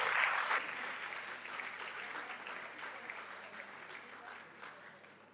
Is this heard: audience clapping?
yes